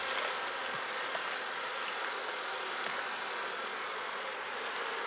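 Honey bees hum steadily inside an opened hive colony, a dense, even buzz of many insects close by that holds level throughout with no talk.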